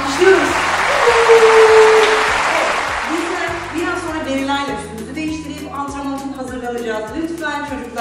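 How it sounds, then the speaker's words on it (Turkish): Loud applause from a group fills the first few seconds, then fades under upbeat music with a steady beat. "Alkışlıyoruz"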